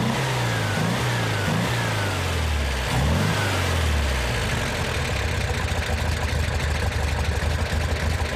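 A Porsche 356 with the 1500 engine, a VW-based unit fed by two carburetors, revs up and down in several rising and falling sweeps before settling into a rough, pulsing idle, loud and close.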